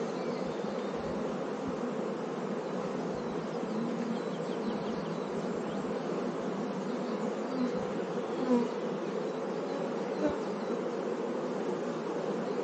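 Honey bees swarm around an open hive frame, producing a dense, unbroken buzzing drone that stays close and even throughout, with no voices.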